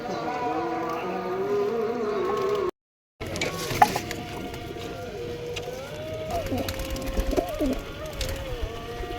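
Pigeons coo softly in a friend's loft, among them a golden female, with low repeated calls and small rustles close by, broken by a brief dropout, while a person talks over them.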